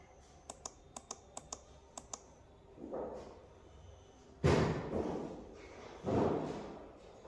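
Rapid light keystrokes on a Dell wireless computer keyboard, a quick run of crisp clicks followed by a few heavier thumps, close and clear with no talking.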